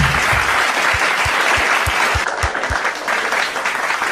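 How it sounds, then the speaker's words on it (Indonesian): Dense, loud audience applause at an indoor gathering, a continuous wash of many hands clapping throughout, with faint low thumps pulsing underneath. "Luar biasa mualaf kita satu ini. Tepuk tangan."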